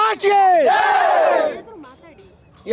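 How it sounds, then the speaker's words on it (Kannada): Fans gathered outside actor Darshan's house for his birthday celebration shout a loud, ragged chant together. The chant fades into a quieter lull, and a fresh shout rises at the very end. "ಜೈಕಾರವನ್ನ ಕೂಗ್ತಾ ಇದ್ದೀರಾ"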